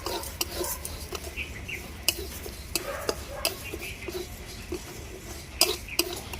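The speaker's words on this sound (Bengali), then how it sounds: "এবারে কড়ার মধ্যে আমি ডালটাকে ভেজে নেবো কোনো তেল দিব না" Dal dry-roasting in a kadai with no oil, stirred by a spatula that scrapes and clinks against the metal in an irregular rhythm over a faint low crackle, close by and without talk.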